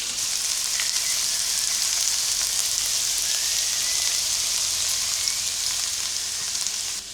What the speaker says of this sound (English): it takes me 10 to 15 minutes to fry this one.